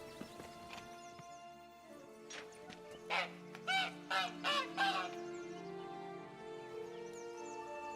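A free-range goose in The Witcher 3 gives a burst of five or six honking calls in quick succession midway through, over quiet game ambience and a low voice.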